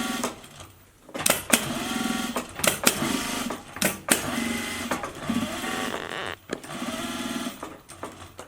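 Sewing machine stitching a cloth face mask in short bursts of rapid mechanical whirring, separated by brief pauses and clicks, close and loud with no talking.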